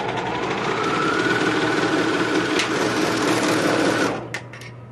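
A serger sewing machine stitches in one steady, loud, fast mechanical whir that lasts about four seconds and then stops abruptly, leaving a few faint clicks.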